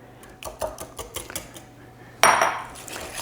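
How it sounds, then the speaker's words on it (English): A whisk clinks and scrapes against a bowl as an egg and egg yolk are beaten into a chewy oatmeal cookie mixture. Light, quick taps come in a loose rhythm, followed by a louder, denser burst of scraping near the end. "and whisk that into a homogeneous mixture."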